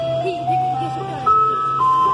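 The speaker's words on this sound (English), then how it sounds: "I wonder why the ice cream truck is still here" A yellow ice cream truck plays its tinkling electronic tune nearby on a smoky day, a steady run of bright melodic notes with a hum beneath, while people talk over it.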